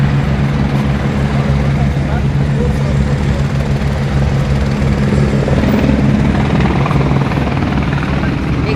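A helicopter's rotor and engine drone loudly and continuously at a high mountain helipad around 11,800 feet, a steady thudding roar filling the whole stretch.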